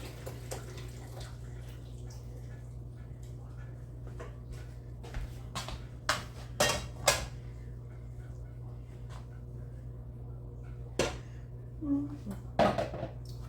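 A spoon stirs hamburger noodle casserole in a pot with scattered scraping clinks against the metal over a low steady hum. The clinks are irregular and cluster in the middle and near the end, and a voice speaks faintly.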